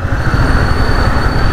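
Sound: train passing under an overbridge

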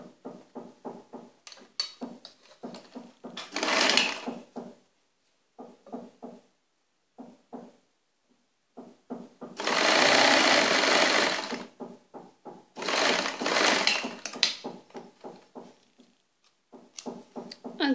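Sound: sewing machine stitching an abaya

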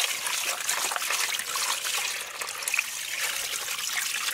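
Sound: water filling a small basin for cleaning pumpkin seeds

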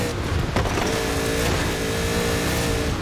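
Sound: car accelerating in Forza Horizon 4 video game

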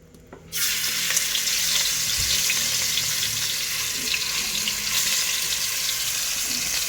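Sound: chicken frying in hot oil

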